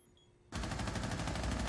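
Rapid gunfire bursts loudly in a video game after a quiet moment, a fast rattling string of shots that continues to the end.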